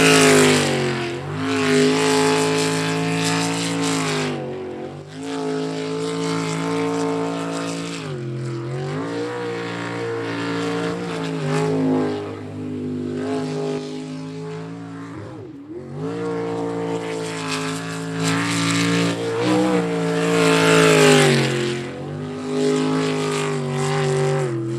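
Several race cars roar away from the green flag at an ASBR pro race, a loud, continuous layered engine drone with rising and falling pitch sweeps as they accelerate and pass, filling the whole stretch without speech.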